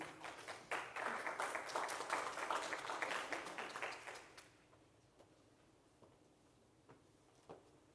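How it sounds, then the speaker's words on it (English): A burst of audience clapping fills the first few seconds, then tapers off into near silence with a few scattered claps. "Please give a round of applause for Christian Virgil."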